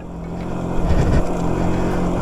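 A dirt bike runs on an abandoned motocross track in the middle of a field, its engine droning close by with a steady harmonic tone that swells briefly before settling at a constant, fairly loud level.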